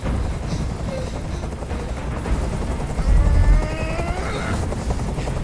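Helicopter rotor noise in the video game Detroit: Become Human, a steady loud whir throughout, with a brief swell of low thumping around the middle.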